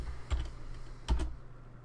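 Typing an xcopy command on a computer keyboard: two short bursts of key clicks, close and fairly quiet, with a pause between them.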